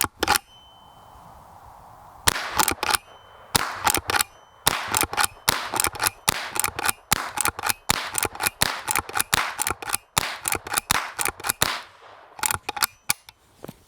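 A Henry Golden Boy lever-action .22 rifle fires a string of sharp, close shots, with lever-cycling clacks between them. There is a pause early on, then a steady run of cracks at roughly even intervals.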